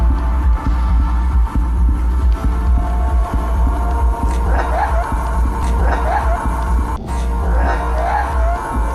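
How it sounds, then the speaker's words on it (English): Loud, creepy dance music with a thumping heartbeat-like pulse and heavy bass, played by a neighbor loud enough to shake the walls, heard as a dense, booming low-end throb that pulses steadily throughout. "a neighbor is playing some creepy dance music that has a heartbeat and bass turned up loud enough to make the walls shake"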